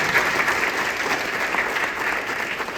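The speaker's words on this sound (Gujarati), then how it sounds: "એકવાર જોરદાર તાળી આ સંસ્થા." An audience at a community get-together ceremony applauds steadily, a dense, even wash of clapping hands that holds at constant loudness throughout, with no voices over it.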